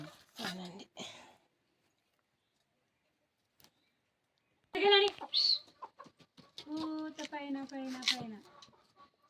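Chickens cluck in short bursts, a few near calls after a pause, with some people talking nearby.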